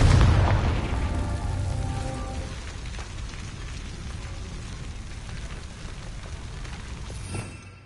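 A Confringo spell explosion in the video game Hogwarts Legacy opens with a loud boom, then fades into a crackling, rain-like decay of debris and ambience, ending in a brief final pop.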